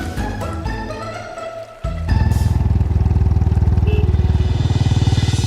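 A motorcycle engine runs steadily with a rapid, even pulsing idle-to-rev throb, loud and close, following a brief burst of music-like tones at the start.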